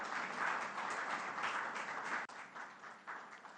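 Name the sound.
applause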